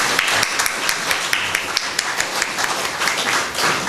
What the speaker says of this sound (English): Let's give our candidates a round of applause.